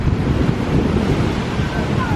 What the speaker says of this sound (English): It's pretty windy still.